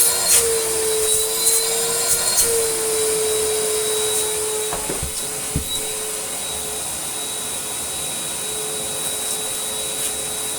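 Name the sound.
Nilfisk Buddy II 18 vacuum cleaner running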